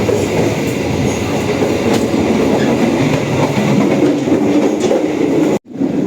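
Economy class train travelling from Jakarta to Jogja, heard from inside as a steady, loud rolling rumble with faint wheel clatter, cutting off abruptly just before the end.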